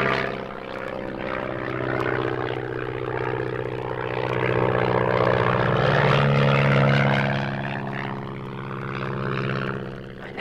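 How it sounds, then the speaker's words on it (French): An advertising propeller airplane drones overhead, its engine hum swelling as it passes closest and then slowly fading, with no voices. "Avion publicitaire dans ce coin perdu?"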